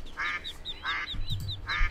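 Repeated duck quacks at a pond in an old-school pixelated video game, about four bursts in a steady rhythm, clear and moderately loud, with faint low rumble underneath and no speech.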